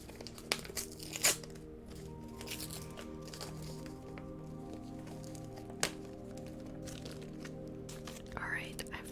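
A tiny piece of New Zealand chocolate is snapped off in close, quiet ASMR style, with soft wrapper crinkles, a few sharp cracks and faint rustling over a low background hum.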